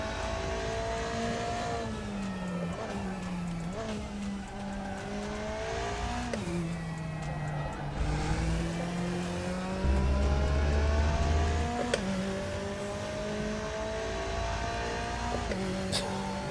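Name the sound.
McLaren race car engine in RaceRoom video game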